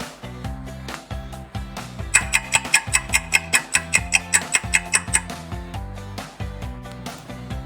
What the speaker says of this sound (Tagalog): Orasan po!